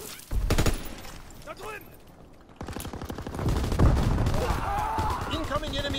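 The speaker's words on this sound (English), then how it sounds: "Incoming enemy artillery." Loud bursts of incoming enemy artillery fire and gunfire in a World War II shooter game, repeated explosive blasts with a dense, rumbling barrage across the clip, mixed with voices talking.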